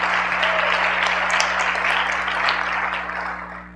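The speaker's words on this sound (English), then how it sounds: "you can applaud," An audience at a corporate celebration event applauds a newly introduced assistant general counsel: dense, loud, sustained clapping from a large crowd throughout, tapering slightly at the end.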